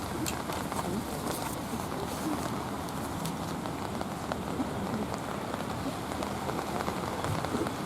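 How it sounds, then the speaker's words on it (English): Rain falls steadily at an outdoor December wreath ceremony, a dense, continuous patter on surfaces with scattered sharper drops and no clear voices. "You know the rain, we could always use the rain."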